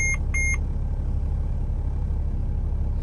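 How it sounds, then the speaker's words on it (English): Two short electronic dashboard beeps at startup of a 2007 Mercedes Sprinter van near the start, over a steady low engine idle that continues after them. "came on, got a few little beeps."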